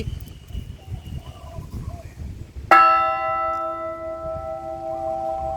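A church bell at a Catholic parish in Thailand strikes once loudly over faint murmuring, then its bright tone rings on and slowly fades.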